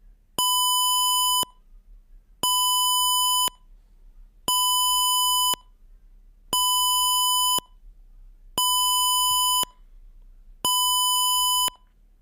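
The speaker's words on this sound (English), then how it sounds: "So at 8:37, we should hear the sound from this buzzer." An Arduino-driven electronic buzzer used as a classroom bell sounds six evenly spaced tones, each ringing about a second with a short pause between, loud and clear.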